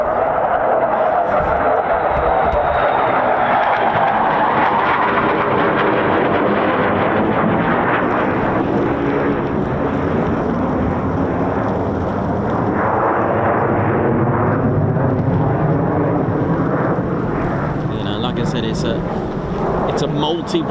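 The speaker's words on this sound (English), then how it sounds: "It's a multi-role aircraft." A military fighter jet at the 48th Fighter Wing's RAF airbase thunders overhead, a long, loud, rumbling roar that swells and shifts as it passes and fades away.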